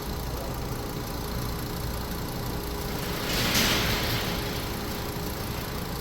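A 2012 VW Passat engine with a failing head runs steadily at idle, a constant mid-low drone with a brief swell in level partway through, heard fairly close with no talking.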